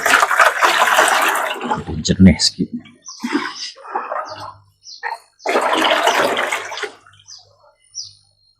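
Water splashes and pours as a dipper scoops from a tilapia fish pond on a small farm, two long sloshing pours separated by someone talking in Malay, with brief drips between.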